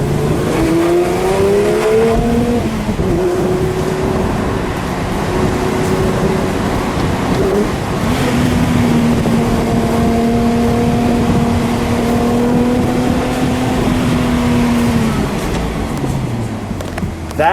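A 2019 Porsche 911 Speedster cabriolet on the road, its engine droning loud and steady with rising and falling tones as it accelerates and shifts, heard from inside the car amid wind and road noise.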